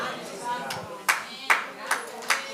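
A church congregation clapping during a Spanish-language sermon on grace: a few sharp, separate claps with a steady rhythm, fairly faint, with a voice speaking underneath.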